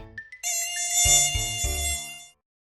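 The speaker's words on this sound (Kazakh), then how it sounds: "Маса." A steady, high-pitched mosquito buzz whines for about two seconds, with a few low pulsing thumps in the middle, then stops.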